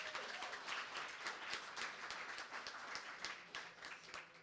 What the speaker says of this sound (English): can we give Channel 2 a round of applause?